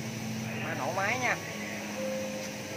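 A 2004 Honda Future motorcycle, a Japanese-market model, idles with a steady low engine hum that runs beneath someone talking nearby.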